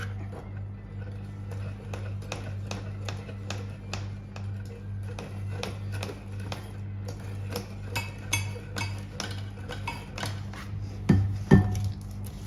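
Icing sugar being mixed into a cupcake frosting in a bowl, heard as a steady run of light taps and clinks of a utensil against the bowl, with a couple of louder knocks near the end over a constant low hum.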